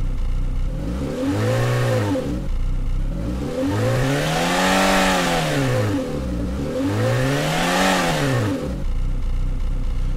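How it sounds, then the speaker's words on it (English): Simulated car engine from the AudioMotors v2 Pro plugin in rev mode, blipping up and down three times in a row, each rev a rising then falling growl, loud and close with no talking. "this rev mode, which is much more like it would be if you were waiting at the traffic lights for it to go green and you're revving your engine."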